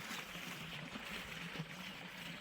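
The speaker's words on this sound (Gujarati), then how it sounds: "પાણી ચાલુ થઈ ગયું" Canal water flows into a farm field in a faint, steady, continuous rush and trickle, with no talking.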